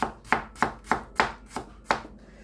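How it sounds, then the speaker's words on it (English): A knife slices radishes thinly on a cutting board, giving seven crisp, evenly spaced chops about every third of a second, close and clear with no voices. "Radishes I normally just top and tail them, and then just do very thin slices"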